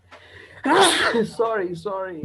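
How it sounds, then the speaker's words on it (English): A person sneezes once, sharply and close up, during an online English class, followed right away by a brief spoken apology from the same voice. "sneezing"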